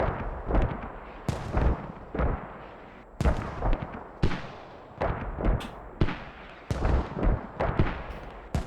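Mortar fire in the military shooter game Squad: a series of loud, sharp blasts roughly every second, each with a rumbling tail, with no voices.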